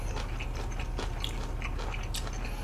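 Crispy fried sweet and sour pork mixed with yangjangpi, vinegar dressing and vegetables being chewed close up, with repeated soft crunches and bites over a steady low background hum.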